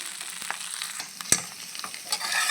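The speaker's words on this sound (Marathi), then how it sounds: "हलवून घ्या तेलामध्ये भाजी चांगली परतून घ्यायची आहे" Finely chopped safflower greens being stir-fried in oil over low heat, a soft steady sizzle with a few quick scraping strokes of the spoon, one louder knock in the middle.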